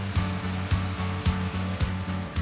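A power tool used as an angle grinder sands thick skin on a foot, giving a steady mechanical whir with regular scraping pulses about twice a second, fairly quiet and alone.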